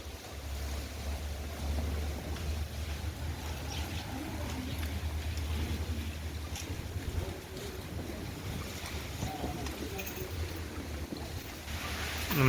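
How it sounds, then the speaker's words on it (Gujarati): Strong wind blows outdoors on a farm with a continuous, heavy roar and rumbling buffeting against the microphone, steady throughout and swelling at the very end. "અને પવન જોવો ભાઈ"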